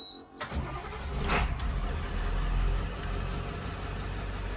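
An International 3800 school bus engine turns over and catches, with a brief cranking burst settling into a low, steady idle rumble heard from nearby.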